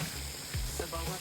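Inasal chicken frying in a pan, with a steady close sizzle and crackle and faint stirring or shifting sounds.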